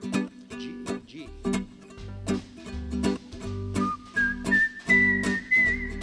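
An audience at a musical whistling awards show whistles along to a song over an upbeat instrumental accompaniment. The whistled melody emerges clearly toward the end of the passage above the steady rhythmic backing.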